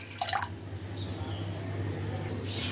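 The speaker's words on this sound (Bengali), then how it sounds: "এবার ডালটা ভালোভাবে ডুবে থাকবে এমন পরিমাণ জল আমি নিয়ে নিলাম।" Water is poured into a pressure cooker over lentils for a dal, a steady close splashing fill with a low constant hum underneath and a brief clatter at the start.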